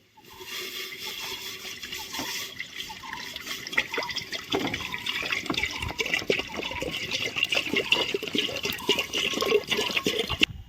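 Water poured into a cooking pot at an outdoor fire in a forest, a steady, close gush and splash that builds in strength over several seconds, with no talk.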